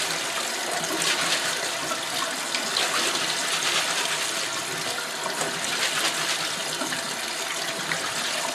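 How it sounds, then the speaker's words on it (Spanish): Cold tap water runs steadily over Peruvian cancha corn in a colander, a continuous close rushing splash with no voices. "ya tenemos la cancha en un colador y vamos a enjuagarle. De preferencia con agua fría."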